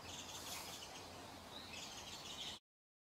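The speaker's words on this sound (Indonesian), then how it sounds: "Burung jantan yang mau berkembang biak, bernyanyi dengan siulan merdu, yang berulang-ulang." A male narcissus flycatcher sings repeated bright whistles, clear phrases recurring over a soft background hiss before the sound cuts off abruptly.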